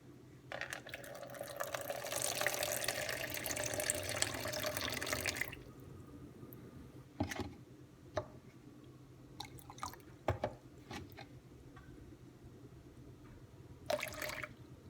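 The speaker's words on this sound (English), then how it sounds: "So water goes in." Tap water runs into a bowl to measure 120 grams for challah dough, a close steady splashing stream for about five seconds, followed by faint drips and small kitchen knocks.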